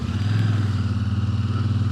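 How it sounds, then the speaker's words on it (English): A 2023 Royal Enfield Super Meteor 650 twin engine while riding, a steady low rhythmic thrum close up with a pulsing beat and slight clatter, no voices. "Nice sounding beat to that engine."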